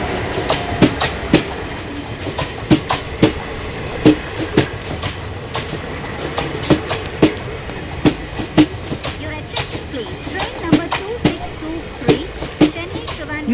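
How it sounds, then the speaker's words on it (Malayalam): The Howrah Express pulls into a station with loud, rhythmic clickety-clack of wheels over rail joints and a low rumble of passing carriages, while people speak nearby. "ട്രെയിൻ വന്നു."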